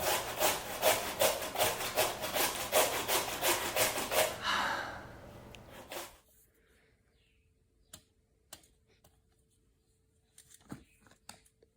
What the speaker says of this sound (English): watch your fingertips when you're grating